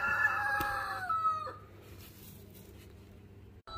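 Agitated hens in a backyard coop clucking and squawking loudly at first, a couple of overlapping calls that fade into quieter background clucks.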